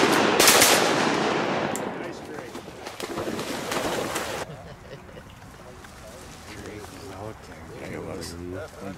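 Shotgun blasts during a duck hunt ring out in a loud, rapid volley at the start, with excited shouting from hunters in the field and ducks calling afterward.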